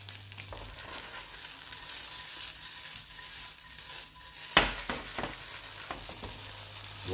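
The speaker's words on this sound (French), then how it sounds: "Et je vais touiller cette sauce. Voilà, je vais mélanger cette sauce." Pad thai sauce being stirred in a sizzling wok, with a steady frying hiss throughout and a sharp utensil knock partway through, close and moderately loud.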